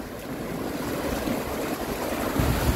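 Rough ocean surf at a black sand beach near Kololi in The Gambia, a continuous broad wash of breaking waves with wind buffeting the microphone, and a heavier surge toward the end.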